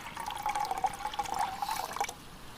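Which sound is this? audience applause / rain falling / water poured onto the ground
water poured onto the ground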